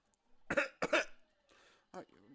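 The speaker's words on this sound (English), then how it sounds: "you have a bad cough" Two sharp coughs in quick succession, followed by quieter rough, voiced throat sounds.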